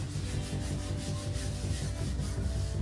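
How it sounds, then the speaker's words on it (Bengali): Dried putty on an interior wall surface is sanded by hand: continuous close rasping strokes in a steady back-and-forth rhythm, loud and unbroken throughout. "পুটিং কাটা শেষে এবার পরের দিন আমরা লাইট জ্বালিয়ে সুন্দরভাবে ঘষে দিচ্ছি"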